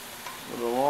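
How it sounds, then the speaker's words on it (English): Steak sizzles in a pan alongside garlic and onion, a soft continuous crackle, with a voice beginning to speak over it near the end. "You can just hear that steak sizzle."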